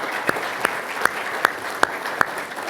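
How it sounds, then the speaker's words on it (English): Six slow, evenly spaced claps ring out over a quiet room hum as panelists at an annual meeting and educational seminar are thanked. "We'll give them a round of applause."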